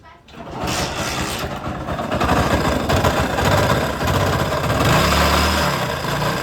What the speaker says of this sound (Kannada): ಆಮೇಲೆ ಇದು ಗಾಡಿ ಸೌಂಡ್ ಚೆಕ್ ಮಾಡಿಸ್ತೀನಿ, ನೋಡಿರಿ ಯಾವ ಥರ ಇದೆ ಅಂಥೇಳಿ.